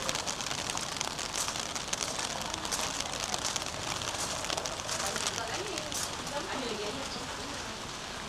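Constant rain patters on a surface nearby, a dense crackling hiss that holds steady throughout, with faint voices underneath.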